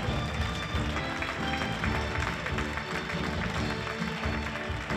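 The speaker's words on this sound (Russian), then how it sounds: "Аплодисменты, друзья!" A large audience at a "Person of the Year" awards event applauds steadily and densely, a continuous wash of many hands clapping with no break.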